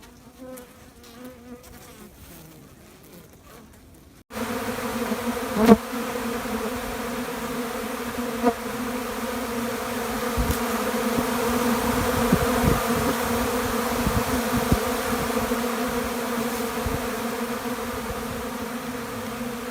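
Honeybees feed on a protein patty in a spring hive and give off a dense, steady buzz. A quiet rustle at the start gives way to the full hum, which swells slightly partway through.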